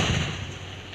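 A missile shot in an Indian bike riding 3D video game: one short, muffled blast that bursts out and quickly fades, heard alone.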